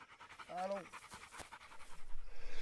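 Quick, rhythmic panting from pig-hunting dogs up close, with a brief whine and a voice speaking nearby.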